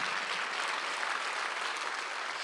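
Steady, full clapping from a church congregation during a Sunday worship service, even and sustained throughout with no voices standing out.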